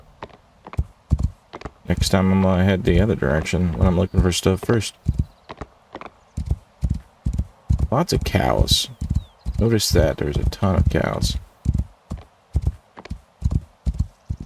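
Horse hooves clip-clop in a steady walking rhythm in the video game Rising World, loud and close, with an occasional whinny, while someone talks over much of it.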